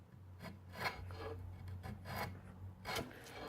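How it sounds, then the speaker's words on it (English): Draw knife scraping Osage orange hardwood: a rough, rasping scratch repeated in uneven strokes, close up, over a steady low hum. "And you can feel that scraping in your draw knife."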